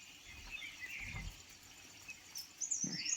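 Faint, sparse bird chirps sound in a quiet, foggy morning in a mountain village, a few thin calls scattered over soft background noise.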